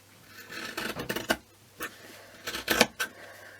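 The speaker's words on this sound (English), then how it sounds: "I'm going to get my best material scissors and I'm going to cut all this excess off" Fabric scissors snip through excess crafting material in a few quick, crisp bursts of cutting close up, with brief pauses between strokes.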